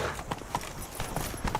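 Roach, Geralt's horse in The Witcher 3, clip-clops along with quick rhythmic hoofbeats, moderately close under a steady game ambience.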